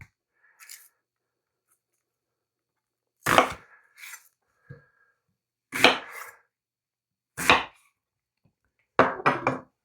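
A knife cuts peeled chicken into quarters: about five separate, crisp chops land on a board with quiet pauses between them, the last coming as a quick double stroke.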